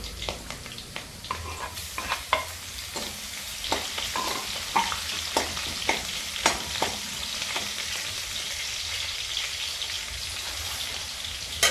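A vegetable dish with curry leaves frying in a pan beside cooking khichdi: a steady close sizzle with repeated sharp scraping and clinking strokes of stirring, irregular but frequent, and no talking.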